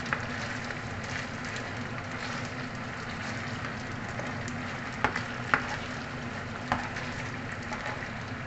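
Garlic sizzles in a very hot pan with beef juices, a steady close frying hiss with a few sharp pops and crackles.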